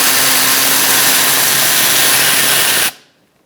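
A power tool with a 5.5mm socket spins out a fender liner screw on a Ford Expedition, giving a loud continuous close whir that stops abruptly after about three seconds into near silence.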